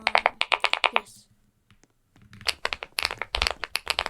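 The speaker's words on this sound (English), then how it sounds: "I know what clicky keys sound like." Clicky keyboard keys are typed in rapid bursts in a typing game, with crisp, close clicks, a short quiet gap in the middle, and then more fast clusters of keystrokes.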